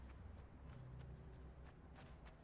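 Horse hooves clip-clop at a steady walking pace in a video game, fairly faint and even, sitting over a constant low background hum with no talking.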